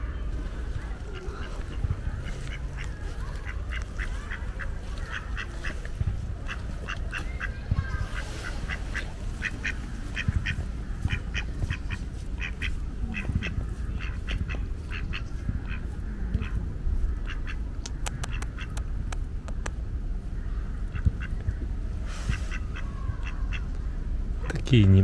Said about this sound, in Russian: И тут я на уточек нарвался.